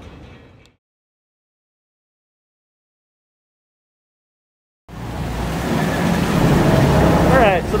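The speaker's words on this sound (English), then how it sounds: "All right, so the boat is here." A passenger boat pulls up to a canal pier in Bangkok. After a short burst of noise and a stretch of near silence, loud engine and churning-water rush cuts in abruptly and continues steadily, close by.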